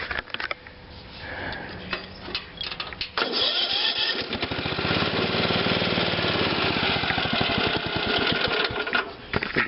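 A small engine with a separate choke cranks with a few sputtering attempts, then catches and settles into a steady, rapid idle that runs on alone and close by.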